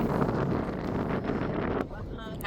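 Strong wind buffets the microphone outdoors in Saint Kilda, Australia, a loud continuous low rumble with gusts. It eases slightly near the end, and voices are faintly present beneath it.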